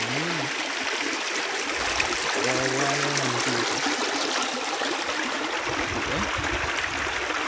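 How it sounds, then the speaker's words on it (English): A river stream in Jamaica flows and rushes steadily and loudly throughout, with a voice briefly speaking over the water. "You know that stream right here, so I guess. And a big stream."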